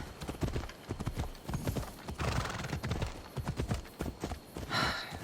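Horse hooves in Assassin's Creed Odyssey clip-clopping in a steady gait close by, with a neigh near the end.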